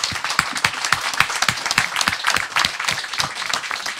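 Audience applause for a discussion panel at a conference on Taiwan's elections and global security, a steady patter of individual claps from a modest crowd, close and moderately loud throughout.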